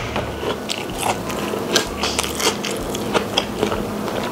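Close chewing of bakso meatballs, soft wet bites and crunches repeating irregularly for a few seconds, no talk.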